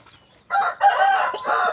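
A young rooster gives a short, rough crow in a few bursts, loud and close after a quiet start.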